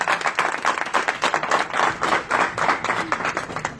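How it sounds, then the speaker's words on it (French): A crowd claps its hands in a lively, steady burst of many overlapping claps with a loose pulsing rhythm, fairly close and sustained without pause. "On applaudit"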